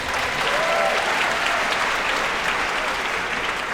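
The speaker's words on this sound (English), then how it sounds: "That's right, you can clap for that." Steady, dense applause from a large commencement audience at the Cleveland Heights High School graduation ceremony for the class of 2014, loud and sustained throughout with a faint murmur of voices under the clapping.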